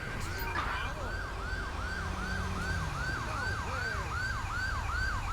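An ambulance siren in the Grand Theft Auto V game wails in a fast, repeating up-and-down pattern over steady road and engine rumble, loud and continuous from start to finish.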